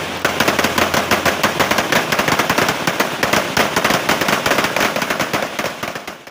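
Machine gun fire during a special forces military training drill in Indonesia, loud rapid bursts of shots in a dense continuous rattle lasting several seconds, close and without talk.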